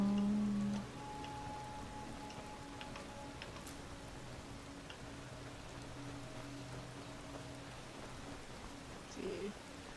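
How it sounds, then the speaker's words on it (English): Steady rain falls in the fantasy game Skyrim, a soft, even patter hissing quietly throughout, with a faint low rumble underneath and no voices. "It's chilly and rainy out, and this just looks like a fantastic setting."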